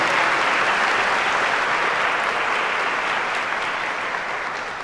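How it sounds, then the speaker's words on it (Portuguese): A church congregation at a sermon breaks into loud, sustained applause, a dense wash of many hands clapping together that holds steady throughout and eases slightly toward the end, with no talking over it. "Pode aplaudir."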